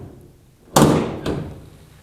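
A 1956 Chevy car door swings shut with one solid, close thud, and a softer knock follows about half a second later as it settles into the frame.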